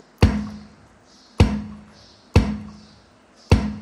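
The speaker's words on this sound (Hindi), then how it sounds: "ये किक ड्रम कहते हैं इसे।" Keyboard kick drum sample triggered four times at a slow, uneven pace, each a loud, punchy low thump with a short decay, nothing else playing.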